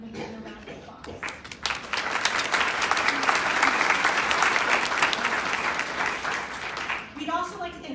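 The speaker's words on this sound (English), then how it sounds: "Please stand and you can give a round of applause." An audience at conference opening remarks applauds its sponsors, clapping that builds after a moment of speech and holds steady, then fades as a voice resumes near the end.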